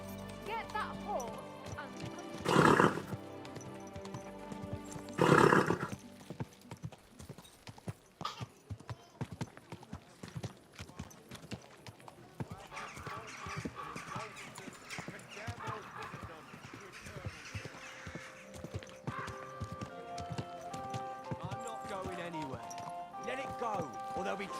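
Hooves clip-clop in a steady gallop in the game Kingdom Come: Deliverance 2, with a couple of loud horse neighs near the start, under talking voices and game sounds.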